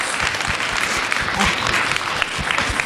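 Audience at a Tamil school music event applauding a teacher, dense steady clapping from a crowd throughout, loud and continuous.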